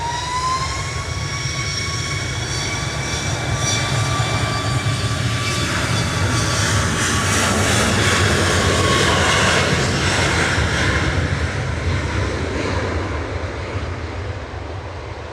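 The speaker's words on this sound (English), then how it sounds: "A couple of noisy props coming out." A loud propeller aircraft takes off at Manchester Airport, its engine drone rising with steady harmonic tones that slowly shift in pitch as it passes nearby, then begins to fade, with no talk over it.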